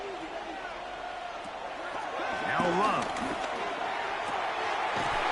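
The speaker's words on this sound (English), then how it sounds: "This crowd into it now as we get to third down." A stadium crowd in Madden 26 rises to a louder roar during a Packers vs Giants game, holding a steady wash of cheering under commentary from a speaking voice.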